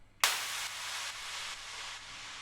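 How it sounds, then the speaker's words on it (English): A sudden synthesized impact hits after a brief silence, then a loud wash of bright noise sustains and slowly fades with faint pulsing. "such as this high impact"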